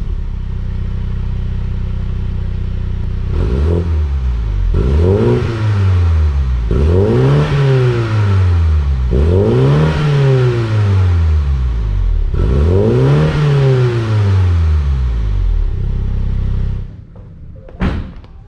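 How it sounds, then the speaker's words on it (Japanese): A MINI John Cooper Works GP engine idles, then revs hard five times in quick succession, each blip rising and falling sharply, before cutting off with a brief thump. "じゃあ最後エンジン音聞いていきましょう。"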